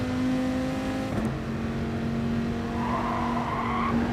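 Race car in a racing game sliding through a spin, a sustained tire squeal over a droning engine note, skidding steadily with a rising screech toward the end, close and unbroken, no talk.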